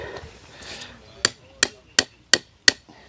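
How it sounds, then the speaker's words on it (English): Five sharp, evenly spaced metallic hammer strikes ring out, close up, as a stiff tent peg is hammered into the ground, after a second of quiet rustling. "That one's a bit stiffer, so we need to hammer that one in"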